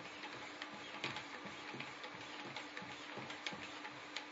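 Stones or strops slide along a blade held in a Wicked Edge sharpener's clamp, making quiet rhythmic scraping strokes with light ticks, faint and close, a few repeated passes in a row.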